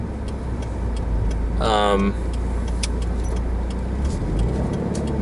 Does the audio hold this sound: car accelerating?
yes